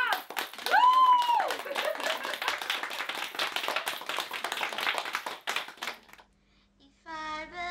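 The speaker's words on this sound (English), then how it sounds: "And clap." A group, with children's voices among them, clapping together after a song for peace, with a sung or whooping voice over the start and clapping under the noise before it fades, then a brief tonal voice at the end.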